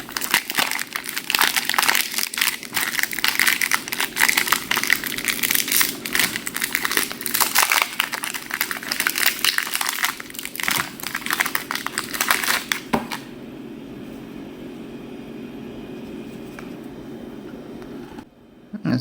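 Aluminum foil packaging of a Korean Oreo crinkles loudly and continuously up close for about thirteen seconds, with busy crackling rustles, then drops to quiet room tone.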